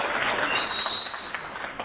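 An audience claps in a dense, steady applause that swells slightly midway, with a faint high whistle-like tone riding over it.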